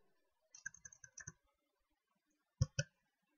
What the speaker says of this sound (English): I just type here